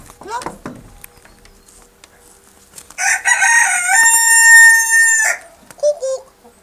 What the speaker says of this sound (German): das ist ein Brahma-Huhn und die ist ganz, ganz zahm